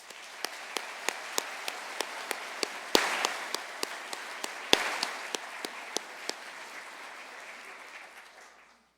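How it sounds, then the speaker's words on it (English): Sustained audience applause at a convocation ceremony in Brockville, a dense wash of clapping with occasional sharper individual claps, holding steady before gradually tapering off at the end. "Please, everyone, let's all give these folks a big round of applause"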